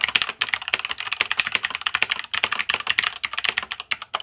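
Fast, continuous typing on an XVX M61 budget mechanical keyboard, close up: crisp, muted key clacks in a busy rolling rhythm with occasional deeper strokes, no voices.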